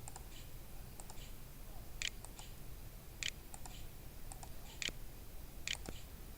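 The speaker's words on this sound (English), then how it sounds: "I'm going to type here the word Tanzania" Someone types a word on a computer keyboard while working in PowerPoint. A few quiet, sparse key clicks land in small clusters over a steady low background hum, with no one talking.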